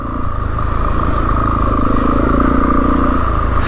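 A Suzuki DRZ400E motorcycle rides off-road on a green lane with a steady, loud engine drone, close by, and rattles and clatters over rough ground. No one speaks.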